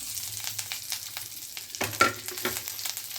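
Curry leaves crackle and sizzle in hot oil in a pan while cooking a ridge gourd spice powder, with bursts of popping and spattering over a soft frying hiss, no voices.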